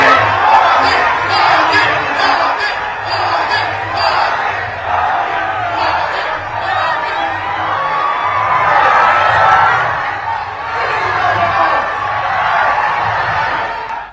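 A huge roadside crowd cheers and chants for Prime Minister Modi at his road show in Dibrugarh, Assam, a loud, dense, unbroken roar of massed voices lasting throughout.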